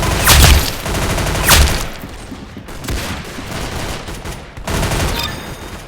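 Rapid bursts of gunfire from a spread-heavy gun in the Roblox game Arsenal, two sharp volleys followed by softer rattling shots, loud and near with no talk.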